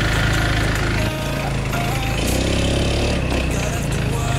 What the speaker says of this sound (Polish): Jest takie dziwne stukanie w silniku,